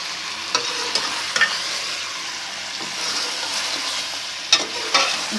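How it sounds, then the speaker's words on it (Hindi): Crushed garlic and ginger fry in oil for chicken karahi, a steady close sizzle with occasional scrapes and clicks of a stirring spoon, and no voices. "इसे ज़रा भून लेंगे हम।"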